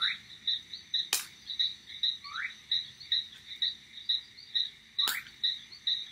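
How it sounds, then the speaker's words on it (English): Jungle ambience at night: frogs call in a steady, rapid pulsing chorus over a constant insect trill, with two sharp clicks and a brief rising chirp breaking in, all fairly close and with no voices. "And your senses tuned in to the sound of the jungle."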